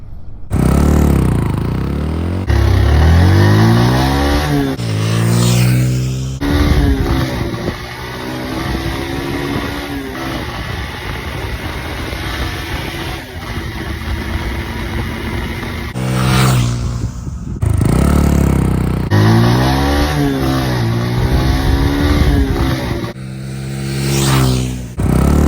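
A Kymco Spade mini motorcycle accelerates hard from 0 to 50 in a speed test. Its small engine revs loud and close, climbing in pitch through repeated gear shifts, easing off in the middle, then winding up again.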